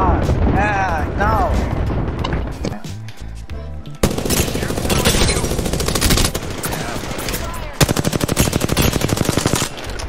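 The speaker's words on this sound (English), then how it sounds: "they're shooting me" Rapid automatic gunfire from an Apex Legends match, loud and sustained in dense bursts with sharp repeated shots near the end, mixed with game effects and a voice talking over parts of it.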